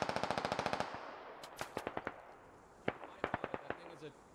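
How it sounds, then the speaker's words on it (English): Gunfire in the military shooter Squad during a night operation: a rapid machine-gun burst of about a dozen even shots opens, followed by scattered single and paired cracks, some close and sharp, others fainter. "No, getting shot."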